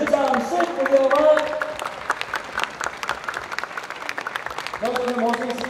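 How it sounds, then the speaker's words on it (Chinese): Loud, sustained audience applause follows a dance performance at a stage magic show in Kaohsiung, with a voice talking over the clapping at the start and end. "我们再次给我们帅气的舞姿更热情的掌声"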